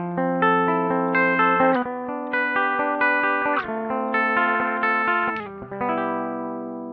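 An electric guitar through a BOSS BD-2W Blues Driver overdrive pedal, with mild overdrive, plays strummed chords and picked notes in a steady rhythm, with no talking.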